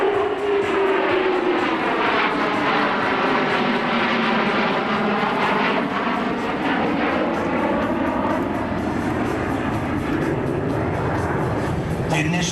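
An Air Force F-15 Eagle fighter jet flies over at a military air show at Elmendorf Air Force Base, Alaska, its loud engine roar filling the scene and sweeping down in pitch as it passes close overhead.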